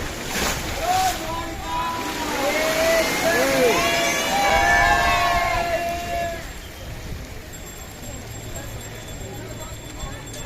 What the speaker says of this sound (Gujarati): હા તો જો કેવા જો મોજા આવે જોરમાં.